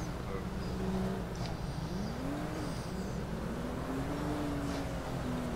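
A car engine drones steadily through the whole stretch, with pitch rising and falling as it revs, mixed with game-like background noise and faint voices; a Viper in GTA roleplay.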